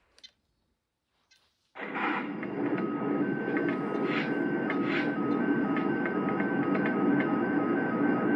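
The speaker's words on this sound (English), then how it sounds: "get on the layout so we can see this thing run for the first time" A Lionel model train starts up on a layout after near silence and runs steadily, a continuous mechanical hum and rattle with faint tonal whines and occasional clicks.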